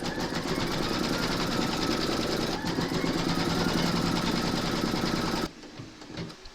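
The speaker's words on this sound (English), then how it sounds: "Pop your hoop into your machine and stitch round number 2 to secure it" A home embroidery machine stitches a securing round through batting taped over an outline on a hooped Moon Phases table runner, a steady rapid mechanical whir running close and loud before cutting off near the end.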